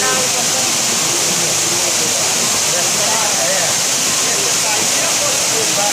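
Loud, steady roar of water pouring over a waterfall at Cachoeira dos Búfalos in Pindamonhangaba, a dense continuous rush heard up close, with voices talking faintly underneath.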